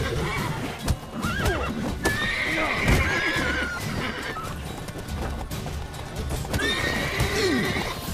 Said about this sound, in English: Oh, what are you doing, horse?